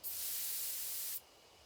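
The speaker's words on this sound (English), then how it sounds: "I take careful aim and spray the drug." A sprayer releases a night-night drug at a beehive in the video game Spirit Hunter: Death Mark, giving one loud, steady, bright hiss that lasts about a second before cutting off abruptly to quiet.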